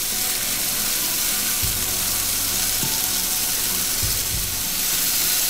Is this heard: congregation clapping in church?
no